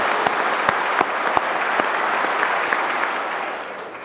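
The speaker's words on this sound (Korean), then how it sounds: "격려의 박수를 보내드립니다" An audience at a national ceremony for North Korean defectors in South Korea applauds steadily for about four seconds, a dense even wash of clapping with a few sharper individual claps standing out.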